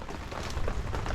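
Rain patters on a camping awning beside a river, a dense, even drumming close by with no voices.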